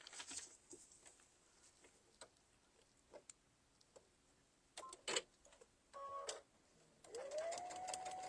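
Sewing machine stitching a quilt block in short fast bursts with pauses, quiet and close, ending in a longer steady run.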